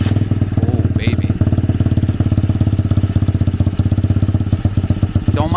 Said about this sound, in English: Don't mind the rattle. It's the sheet metal.